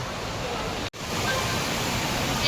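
A monsoon waterfall on a Konkan trip pours with a steady, dense roar of rushing water that fills the whole stretch, broken only by a split-second dropout near the start.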